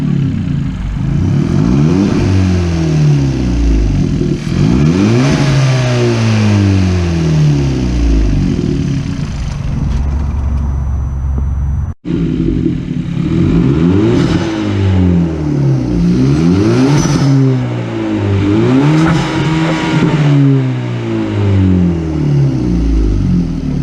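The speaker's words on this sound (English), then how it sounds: "I'm gonna do a couple more revs on this video." A 2018 Hyundai Elantra Turbo fitted with a K&N cold air intake revs repeatedly, its engine note climbing and falling in a steady series of loud blips with a brief cut midway, heard from close by with no talk.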